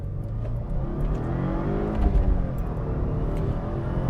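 A car accelerates hard through a full quarter-mile pull, its engine note loud, close and continuous as it climbs through the gears without a break.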